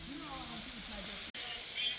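Fish sizzles on an outdoor grill at a waterfall, a steady broadband hiss of frying held close throughout, with a voice talking over it.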